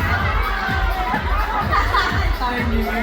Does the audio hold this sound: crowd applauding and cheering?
yes